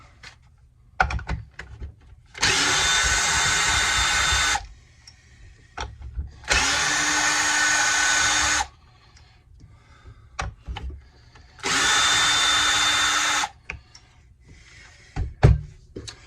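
A power tool backs bolts out of the coil on a Homelite Super XL Auto chainsaw in three loud, sustained whirring bursts of about two seconds each, with clicks and handling noises in the gaps.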